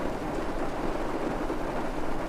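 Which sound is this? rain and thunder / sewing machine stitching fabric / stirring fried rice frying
rain and thunder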